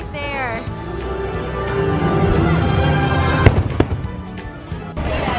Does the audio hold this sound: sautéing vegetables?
no